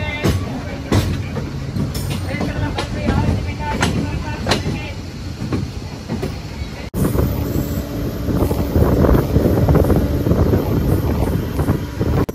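A MEMU express train rolls onto the main line on the Chennai Central to Bitragunta route, heard from on board. A loud, steady rumble of wheels and motion is mixed with heavy wind buffeting throughout.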